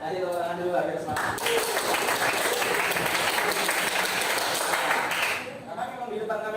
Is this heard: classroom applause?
yes